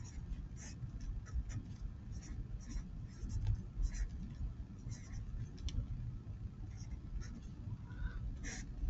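Pen or pencil scratching numbers by hand during multi-digit multiplication, a soft continuous scribble with brief strokes over a low steady background hum.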